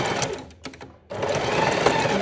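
A sewing machine stitches through a double-sided fabric wipe in two loud, steady runs, broken by a short quieter pause near the middle while the presser foot is raised and lowered.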